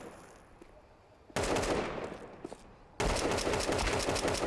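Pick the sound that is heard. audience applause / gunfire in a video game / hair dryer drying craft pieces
gunfire in a video game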